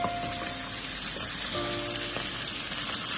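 Pieces of grass carp pan-fry in a wok with a steady, loud, continuous sizzle and crackle from start to finish, carrying a faint tonal hum beneath it.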